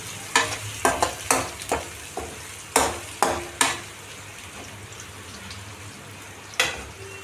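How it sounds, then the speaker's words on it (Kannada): Onions frying in a pan until brown, with a steady sizzle and a series of sharp utensil clacks and scrapes against the pan spread through the first half, then a mostly continuous sizzle with one more clack near the end. "ಸ್ವಲ್ಪ ಈರುಳ್ಳಿ ಚೆನ್ನಾಗಿ ಫ್ರೈ ಆಗಬೇಕು, ಕಂದು ಬಣ್ಣ ಬರೋಕೆ."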